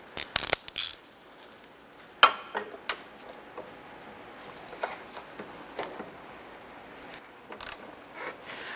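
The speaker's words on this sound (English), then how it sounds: "I'm going to switch over to the hand ratchet to go ahead and get the inboard one here in the" A hand ratchet clicks in quick, uneven bursts with pauses between them while loosening the strut bolt in the cowl area of a 2007-2012 Nissan Versa, close and sharp against a quiet background.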